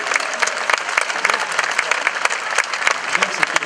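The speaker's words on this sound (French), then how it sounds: "Merci beaucoup et on peut vraiment l'applaudir." Audience applause for a performer named Jacques at a blues festival prize ceremony in Cahors, France: steady, dense clapping from a crowd, sustained and fairly loud throughout with no pauses.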